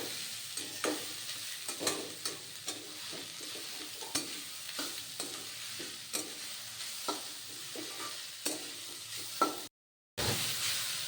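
Winter vegetables for a veg momo filling stir-fry in a pan with a steady sizzle, broken by repeated sharp spatula scrapes and clacks at an uneven rhythm, close by and with no talking.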